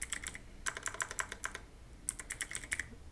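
Fingers tap out quick bursts of keystrokes on a computer keyboard. Two clusters of clicks are split by a short pause, recorded close and fairly quiet.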